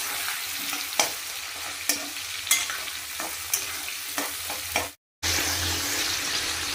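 Potatoes and onions frying together in plenty of oil, a steady crackling sizzle broken by regular spatula scrapes about every second, close and loud, with a brief cut to silence before the sizzle resumes.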